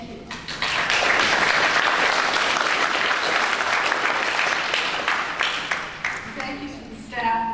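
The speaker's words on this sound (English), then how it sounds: "I'd like us all to give Bill an extra hand of applause" Sustained applause from delegates at a chess federation meeting honoring a member's work, a dense burst of clapping that swells quickly, holds steady, then thins out near the end as a voice returns.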